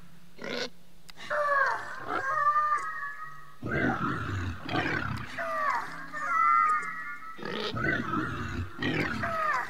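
Creature grunts and roar-like calls from Spore gameplay, several growling bursts one after another over a low game-music drone, fairly loud and close, with no talk over them.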